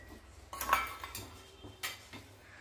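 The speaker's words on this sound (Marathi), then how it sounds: "चमच्याने असं ढवळून पाक करून घेऊयाचा" A spoon stirs sugar syrup in a pot on the stove, giving a few brief metallic scrapes and clinks against the pot, quiet and close.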